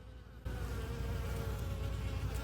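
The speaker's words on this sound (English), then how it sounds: "Can you hear all the bees?" Many bees buzz continuously close by on chrysanthemums, a dense humming drone that starts abruptly and holds steady throughout.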